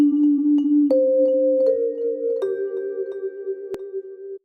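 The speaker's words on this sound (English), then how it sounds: "it's a type of instrument that you would have heard back in the 60s, 70s, and even into the 80s. And it's the sound of the vibraphone." A vibraphone plays a slow sequence of sustained, bell-like notes stepping upward, each mellow tone ringing with a gentle shimmer and overlapping the last, close and clear with no talk.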